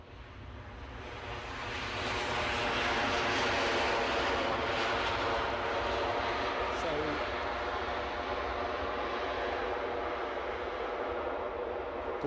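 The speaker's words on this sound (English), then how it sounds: "It's a 737 and it's a Ryanair" A Ryanair Boeing 737 at Edinburgh Airport builds to a broad, steady jet roar that swells over the first few seconds and then holds loud and constant.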